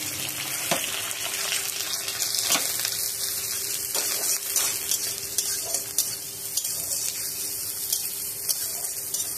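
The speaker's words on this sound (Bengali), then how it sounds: "এবার আলুটা দিয়ে আলুটা ভালোভাবে ভেজে নেব।" Potatoes fry in a pan of hot oil tempered with black cumin and dried chili, a dense continuous sizzle broken by occasional scraping stirs, close and loud with no talk.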